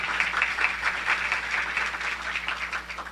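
Applause for medical students in an auditorium during a live lecture, a moderately sized audience clapping steadily at a modest distance, with a low electrical hum beneath.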